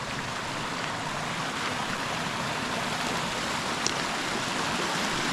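A normally dry creek running with water, heard as a steady broadband rush of flowing water, constant and moderately loud outdoors with no voices.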